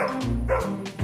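A dog barks close by in a few quick, loud woofs with short gaps between them.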